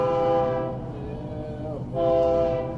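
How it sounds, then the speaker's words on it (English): A passing train sounds its horn in long harmonic blasts, one fading out and a second returning near the end, over a steady low rumble of rolling cars, heard at moderate distance with no talking. "that's a train rolling by."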